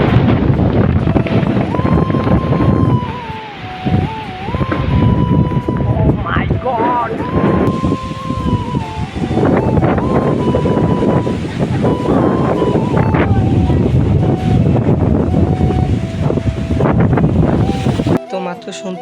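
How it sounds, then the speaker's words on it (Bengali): Cyclone Remal's strong wind roars loudly and continuously against the microphone, with rising and falling howling, whistling tones throughout and a buffeting rumble underneath. "তো মাত্র শুনতেই পারছেন বাতাসে কি পরিমাণ সাউন্ড ক্রিয়েট করছে"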